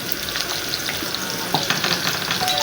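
Onions frying in a pan for daal give a loud, close, continuous sizzle with crackling pops and occasional scraping of a stirring utensil.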